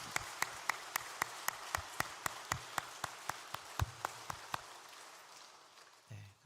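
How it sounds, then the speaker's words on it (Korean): Scattered applause from a church congregation during a Sunday worship service, a steady run of sharp individual claps at a moderate distance that thins out and stops near the end. "여러분들 좀 한번 좀 박수 한번 좀 보내주셨으면 좋겠습니다"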